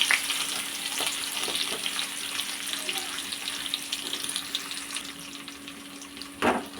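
Crushed garlic sizzles in hot oil in a pan for a neem-flower kuzhambu, a steady close frying hiss with light spatter and a brief utensil scrape near the end, no voices.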